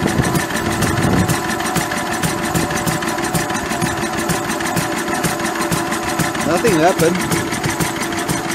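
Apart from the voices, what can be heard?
Lister D diesel engine running with generator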